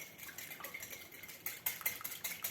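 A fork or whisk beating an egg in a bowl while preparing pastry dough for a skillet chicken pie, giving a series of quick light clinks and taps against the bowl, brisker toward the end, with no talk.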